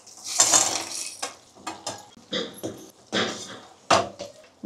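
Chicken manchurian being mixed in a pan, heard as a quick run of clinking and scraping of spoon against metal, close by, in uneven bursts.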